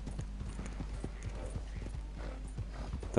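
Horse hooves clip-clop in a steady, quick rhythm in Red Dead Redemption 2, fairly close and continuous over a low game ambience, with no talk.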